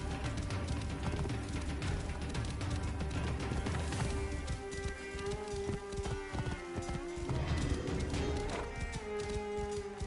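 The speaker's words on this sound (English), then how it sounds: "This must be Mered's horse." Horse hooves galloping in Assassin's Creed Origins, a fast steady clip-clop rhythm running close and loud for the whole stretch, with no voices over it.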